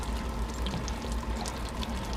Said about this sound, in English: we're going to drain that water here